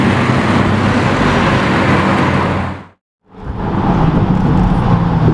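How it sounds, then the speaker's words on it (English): A red Porsche GT3 sports car roars past loudly and close, its broadband engine and road noise filling the scene before cutting out briefly and returning as more traffic swells in. "Look at this red GT3."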